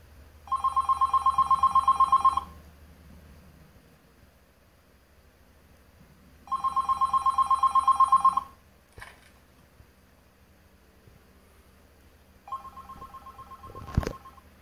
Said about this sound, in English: let's see if I can tap on the bass to make it start ringing